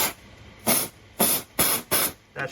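Four sharp bursts of aerosol spray hiss in quick succession onto an overheated car starter motor, then a shorter fifth burst, each loud and close with quiet pauses between.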